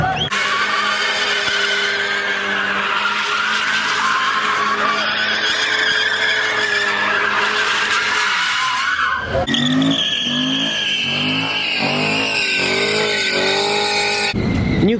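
A car doing donuts at a street takeover, tires skidding and squealing loudly and continuously, with a shift in engine pitch partway through and crowd noise around.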